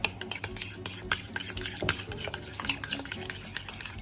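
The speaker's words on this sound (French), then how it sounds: "Et on mélange." A utensil stirs salad sauce with lime juice in a bowl, giving quick repeated clinking and scraping taps in a close, busy rhythm.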